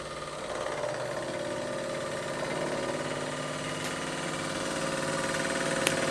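A Bing overtype model steam engine from around 1900 runs steadily, giving a continuous mechanical hum and clatter at an even level throughout, with no voices.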